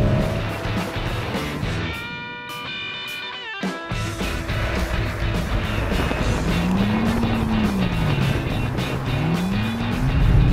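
A BMW M135i is driven hard through corners, its engine roaring steadily near and loud with a brief dip in the middle and a whining tone rising and falling.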